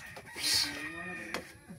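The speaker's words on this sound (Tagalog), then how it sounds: "Manok dito sa taas." Chickens cluck nearby, one giving a drawn-out rising call, with a couple of sharp knocks around them and no speech.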